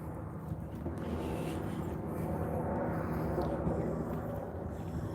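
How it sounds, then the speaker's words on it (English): A helicopter circles above a Denver street protest at night, its low, steady rotor drone continuous and moderately distant, with no voices over it. "We still got the helicopter going overhead"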